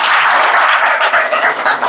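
Audience applause fills the room, a steady loud wash of many hands clapping continuously without pause.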